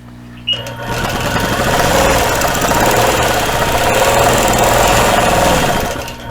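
A domestic sewing machine quilting a Dresden quilt border runs in one steady, close, continuous burst of rapid needle stitching as threads are secured with a figure-8, starting abruptly and stopping near the end, with no talk.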